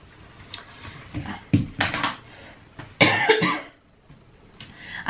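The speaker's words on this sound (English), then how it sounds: "I have been coughing lately." A person coughs in a few short, rough bursts close to the microphone, with quieter gaps between the coughs and no talking.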